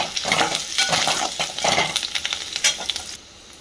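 Green chillies and curry leaves frying in hot oil, a steady close sizzle with stirring clinks and scrapes, fading quieter near the end.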